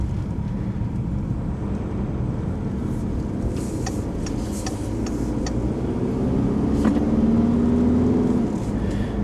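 A 2017 Citroën Spacetourer M van with a 2.0-litre BlueHDi 180 diesel driving through a Swiss city, a steady cabin hum of engine and road noise with a few light clicks and a faint brief tone near the end.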